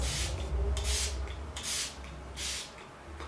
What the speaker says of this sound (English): last year I dipped into the Smashbox Photo Finish setting spray